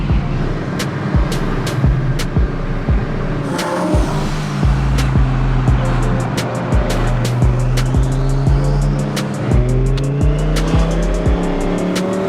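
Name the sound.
twin turbo sports car engine revving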